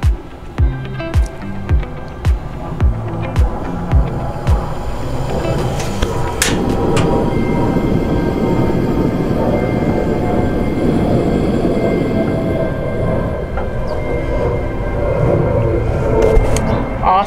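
A Coleman Cascade 3-in-1 camp stove's gas burner, outdoors in the sun: a run of sharp igniter-like clicks, then a steady, close, rushing flame roar that holds to the end, with faint background noise.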